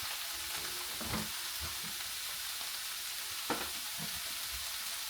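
Ground meat sizzling steadily in a pan as it is stirred, a constant frying hiss broken by occasional scrapes and knocks of the utensil against the pan, close and moderately loud, with no talking.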